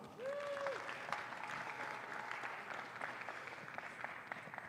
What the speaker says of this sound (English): Let's give a round of applause for the involvement of our 2021 homecoming court.